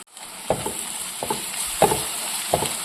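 Crushed ginger, garlic and green chili frying with onions in a pan make a steady hiss, broken by four distinct stirring scrapes spaced evenly about every second, close and without talk.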